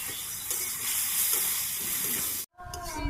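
Potatoes coated in turmeric, chili and coriander powder fry in a pan with a steady close sizzle and scraping stirs, cut off briefly near the end before the frying resumes.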